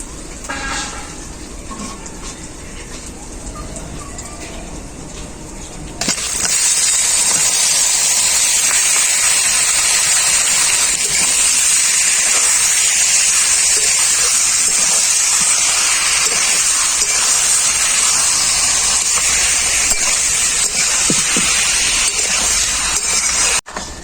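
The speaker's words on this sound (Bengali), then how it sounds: "এখন আমি দিয়ে দেব ম্যারিনেট করা মাংসটা" Marinated chicken drops into hot oil with fried ginger and garlic, and a loud, bright sizzle bursts in and then holds steady and close, over a quieter pan hiss.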